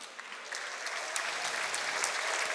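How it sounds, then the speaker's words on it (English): A live audience at a 2017 Hearthstone Global Games esports match applauds Team Ukraine, a steady wash of clapping that swells slightly over a couple of seconds with no speech over it. "So give it a round of applause for Ukraine as well."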